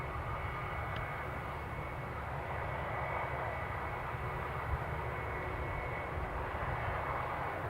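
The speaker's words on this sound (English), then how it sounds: "An EasyJet Neo arriving from Geneva." An EasyJet Airbus A320neo jet arriving at Newcastle International Airport gives a steady, distant engine roar with a faint whine, low in level and unbroken.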